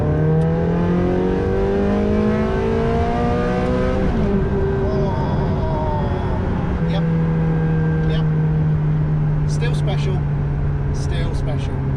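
A Ferrari engine climbs in pitch through rising gear pulls, then holds a steady high-revving drone, loud and continuous, with a few faint clicks near the end.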